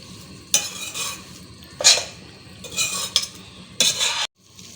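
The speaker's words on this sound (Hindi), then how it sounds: "थोड़ा सा मैं इसको भूनूंगी मसाले के साथ" Chicken frying with spices in a pan, with four loud bursts of sizzling and spoon scraping separated by quieter simmering, and a sudden cutoff near the end; close, with no voices.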